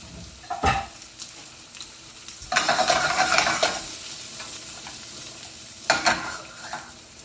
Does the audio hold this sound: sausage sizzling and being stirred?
yes